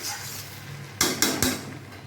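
Stirring garam masala into biryani inside a rice cooker, with three sharp metallic scrapes and knocks of a utensil against the pot in quick succession over a steady low background.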